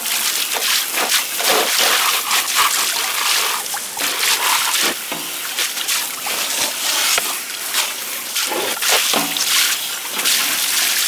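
Water splashes and sloshes in a tub to wet something, a loud, continuous, close churning with bursts of splatter and trickling.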